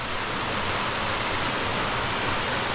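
A cascade on the Ilomska river on Vlašić, upstream of the main waterfall, roars as a constant, even wash of white-noise water sound, close and unbroken, with no talking.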